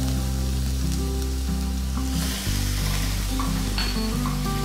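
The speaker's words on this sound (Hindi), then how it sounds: "अभी डालेंगे इसमें हमारी हरी मिर्च, हरी मिर्च भुनी, इसमें डालेंगे हम चॉप जिंजर" Green chilies and chopped ginger roasting in hot oil for Punjabi samosa filling, a steady hissing sizzle heard beneath prominent background music, with no speech.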